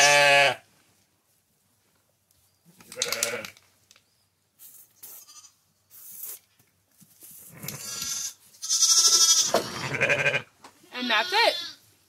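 Ewe and newborn lamb bleat in a lambing pen during tagging, several loud, close calls spaced irregularly across the stretch, the later ones longer and overlapping, with quiet gaps and brief handling noises between.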